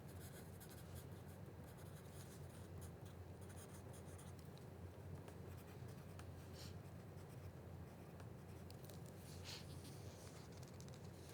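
A pencil scratches steadily on a paper character sheet at a Dungeons & Dragons table with high school students, a faint, continuous close-up scribbling with small irregular strokes.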